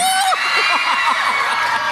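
A loud crowd at a Miss Gay Communal pageant in Cabanatuan City shouts and cheers, with high whoops and shrieks rising over a sustained roar of voices.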